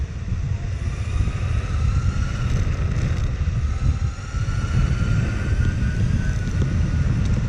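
Electric skateboard motors driven by a Flipsky Dual 6.6 Plus ESC at part throttle, a loud continuous whirring drone with a rising high whine over heavy low rumble, close and unbroken.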